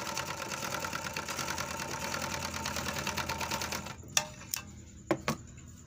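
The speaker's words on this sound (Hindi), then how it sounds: "फिर से हम एक बार सिलाई मार के दिखा देते हैं। मैं पतला ही कपड़ा पे मार रहा हूँ" An overlock sewing machine stitches thin cloth in a steady, close, fast mechanical whir that runs for about four seconds, then stops, leaving a few sharp clicks and taps.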